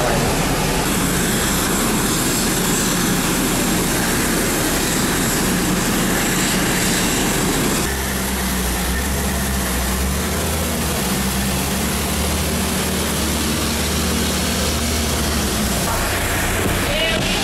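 A Turkish Airlines airliner engine roars loud and steady throughout, a dense continuous rumble and hiss, with a shift in tone midway.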